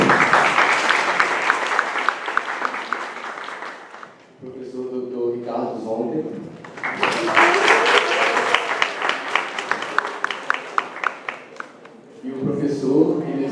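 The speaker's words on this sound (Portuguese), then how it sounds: "Palmas, por favor." An audience at an academic seminar applauds in two long bursts of dense, steady clapping, with a presenter speaking in between and again at the end.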